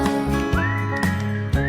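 Bright, clear whistled notes over a musical backing, with sliding pitch between phrases and steady rhythmic accompaniment beneath.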